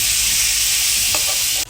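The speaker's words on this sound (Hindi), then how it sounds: "लो फ्लेम पे ही मैं इसको 1 मिनट तक भून रही हूँ।" A potato mixture roasting in a pan over a low flame gives a steady, bright frying hiss, with a light stirring scrape near the end before the sizzle abruptly drops.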